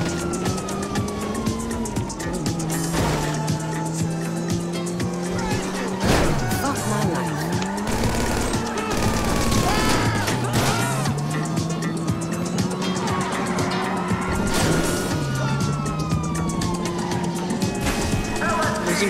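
A car in the video game GTA 5 skids and crashes, with a continuous engine roar, squealing tires and a wailing police siren rising and falling, while a player talks over the loud, busy mix.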